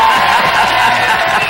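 A studio audience on a Brazilian TV show cheers and applauds for a singer, a dense, steady wash of crowd noise with whoops rising over it, loud and continuous.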